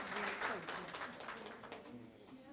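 Audience applause welcoming a guest at a talk, a soft wash of clapping that fades over the span, heard fairly faint with a voice talking over it.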